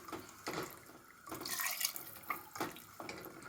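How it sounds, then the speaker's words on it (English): Water is poured into a pan of cooked sprouted peas to make ragda gravy, giving several short splashing, trickling bursts that come and go at close range, with no talking. "Add water so that it becomes a gravy."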